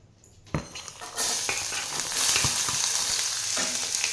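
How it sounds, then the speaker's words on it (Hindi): Chopped beetroot, onion and other vegetables dropped into a hot pan: a few clacks as they land, then a loud, steady close sizzle with occasional stirring knocks, no voices. "इस तरह से मैंने ये सारी सब्जियां डाल दी हैं और इनको थोड़ी देर मैं और भूनूंगी"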